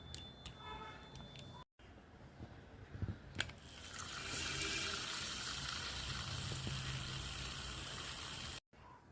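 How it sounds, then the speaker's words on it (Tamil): A handheld milk frother whirs steadily for several seconds while frothing coffee made with hot water for an Irish cream coffee. It stops abruptly near the end. "கொஞ்சமாக ஒரு இந்த ஃப்ராத்தர் வச்சு ஃப்ராத் பண்ணுறோம்."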